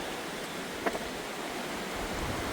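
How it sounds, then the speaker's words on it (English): A river flows beside a Camino de Santiago walking path near swimming spots in Castilla y León, a steady broadband rush of water heard close and continuous, with a brief soft knock partway through. "Beautiful sound with the water next to us."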